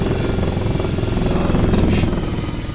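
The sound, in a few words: helicopter flying in DCS flight simulator video game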